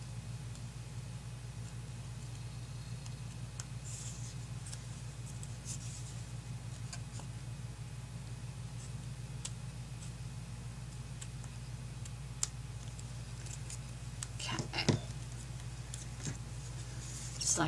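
Scissors trim the edge of a sticky paper card for a Happy Easter explosion card, making quiet, faint scratchy cuts over a steady low hum, with a few sharper snips near the end.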